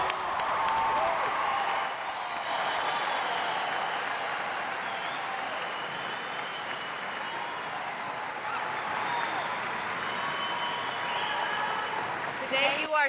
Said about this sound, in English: Let's applaud the graduates of 2012.